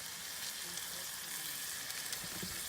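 Spices sizzle steadily in a hot pan with a bright, even frying hiss and a few faint stirring knocks near the end.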